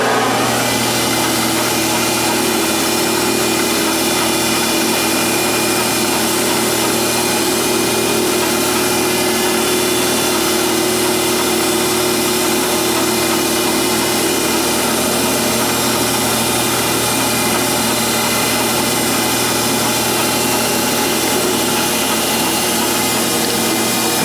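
A machine tool cuts a 3/4 inch diameter metal part, making a loud, continuous grinding whine with a steady tonal hum that runs unbroken throughout.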